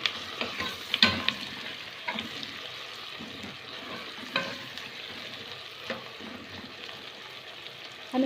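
Chopped liver and gizzards fry in a pot with minced onion and garlic, giving a steady soft sizzle with occasional clinks and scrapes of stirring, close and continuous with no talking.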